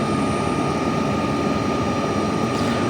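A steady, loud roar of aircraft engines fills the air at Yekaterinburg airport, a constant droning rumble with no pauses or voices.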